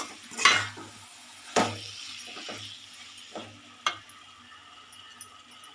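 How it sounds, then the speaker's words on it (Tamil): Tomatoes stirred in a pan over high flame for an egg curry, a spoon scraping and knocking against the pan in several distinct strokes over a faint sizzle. "ஹை ஃப்ளேமில் வச்சு கிண்டி விட்டுக்கோங்க"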